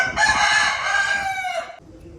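A rooster raised for cockfighting in the Godavari districts crows once, a loud, close, drawn-out cock-a-doodle-doo lasting under two seconds before fading into quiet.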